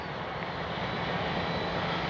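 An E-flite 64mm Viper RC jet in slow flight with landing flaps down, its electric ducted-fan engine giving a steady, continuous whine and rush that holds even and unbroken throughout, with no talk.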